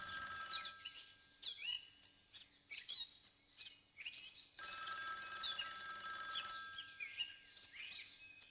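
A telephone rings in repeated trilling bursts separated by brief gaps, faint and somewhat distant.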